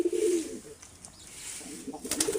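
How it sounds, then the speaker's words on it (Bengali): Pigeons that have just finished molting coo in low, soft murmurs, loudest at the start and then fading, with a brief rustle near the end. "দেখুন কবুতরগুলো এখন কত সুন্দর হয়ে গেছে, একদম ফ্রেশ।"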